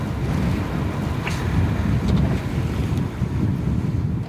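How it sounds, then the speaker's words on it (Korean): A Spanish mackerel fishing boat off Geomundo pushes through gradually strengthening waves, with a steady broadband roar of wind buffeting and water rushing against the hull, loud and continuous without talk. "조금씩 거세지는 파도를 헤치고"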